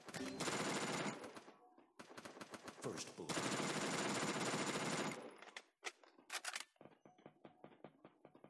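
Free Fire Mobile gunfire rattles in long automatic bursts, then breaks into shorter volleys and scattered single shots, loud and close.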